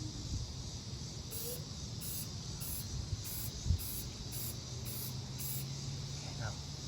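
Short bursts of aerosol spray paint hiss repeatedly in a regular on-off rhythm while an old Vulcan 20 lawn mower is being painted, with a voice talking in between.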